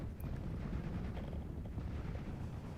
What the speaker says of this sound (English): I'm trying to dislodge them with mortar fire